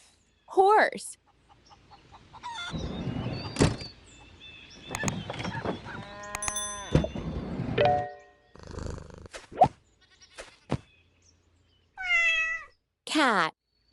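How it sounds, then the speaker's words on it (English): A cat in a children's farming game meows several times, with rising and falling cries scattered among purring, clicks and other short cartoon effects. "Cat."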